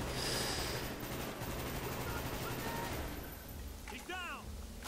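Call of Duty Black Ops campaign gunfire sounds as loud, rapid automatic bursts with a dense rattling texture, fading slightly later as a short voiced sound cuts through near the end.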